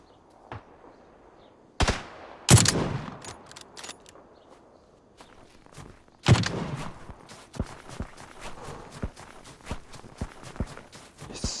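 Gunfire in the battle royale video game PUBG, with a few loud nearby shots and scattered fainter distant cracks over quiet ambience, followed by a burst of sharp rapid reports.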